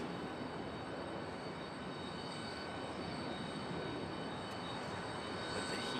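A Boeing 777 airliner departs Charlotte Douglas airport as a steady, distant broadband roar with a faint whine, even and unbroken throughout, no voices.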